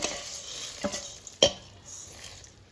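Fried spices being tipped and stirred in a pan, with a quiet low sizzle broken by a few distinct scraping clinks of a utensil against the pan, no speech.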